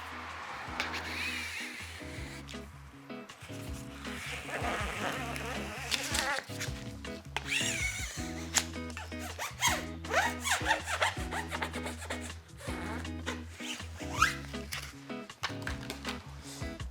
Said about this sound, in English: So just peeling that backing, get that started.